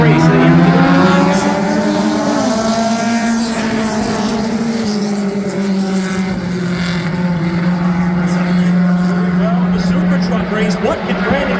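Mini stock race cars roaring around Florence Motor Speedway, loud sustained engine drone with pitch sweeping up and down as cars pass, a race announcer talking over it throughout.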